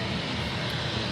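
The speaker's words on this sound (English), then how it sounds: "his engines are getting louder" Aircraft engines idle with a steady broadband roar, distant and fairly faint, in a short stretch with no talking.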